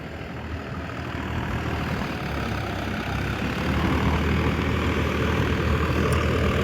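A Swaraj 744 XT 4x4 tractor ploughs a muddy seedbed field on a second pass, its engine a continuous low drone that grows slightly louder midway through, with no voices.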